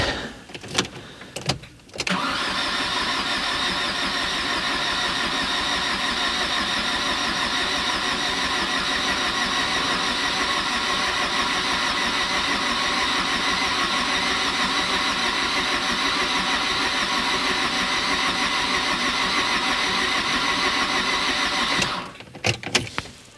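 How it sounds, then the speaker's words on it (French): A used diesel engine with air in its fuel circuit cranks continuously for about twenty seconds, a loud, steady, unbroken starter whir that does not catch, then stops abruptly. "je vais insister, je vais tenter de démarrer longtemps. Normalement, ça doit vider l'air qui se trouve dans le circuit de carburant, et ça devrait démarrer."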